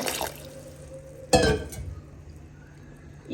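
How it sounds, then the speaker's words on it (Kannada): Water poured into a container of cut cucumber peels, a short close splash and gurgle after a faint earlier trickle, then quiet room tone with a steady low hum. "ಇದಕ್ಕೆ ಮುಳುಗುವಷ್ಟು ನೀರು ಹಾಕ್ಕೊಳ್ತೀನಿ"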